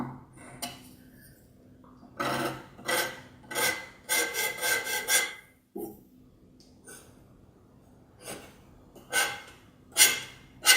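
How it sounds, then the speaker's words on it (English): Palette knife scraping through wet paint on a canvas, a series of short rasping strokes in quick bursts, some clustered together, close and fairly quiet with pauses between. "So see, I just make some nice hair strings, some effects. Just scraping out parts of the paint."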